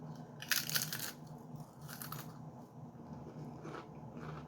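Lay's Funyuns-style chips crunched while eating, a couple of loud close bites followed by fainter chewing crunches, no talking.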